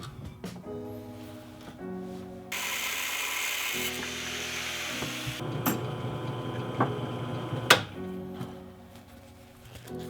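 A stock classic Mini shifter being cut apart with a power tool: a steady buzzing cutting whine runs several seconds, broken by clunks and a sharp knock, with quieter handling noises around it.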